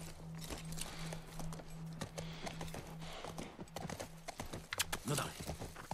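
Horse hooves clip-clop in a quick, steady trot in the video game The Last of Us, up close over a low hum, with the beat growing busier toward the end.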